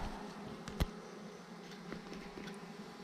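A swarm of honey bees clustered on a tree branch gives off a faint, steady buzzing haze, broken by one sharp knock near the start.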